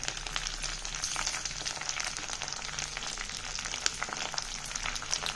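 Thuthuvalai leaves and green chillies are sautéed in a pan, giving a close, continuous crackling sizzle with small irregular pops and no talking.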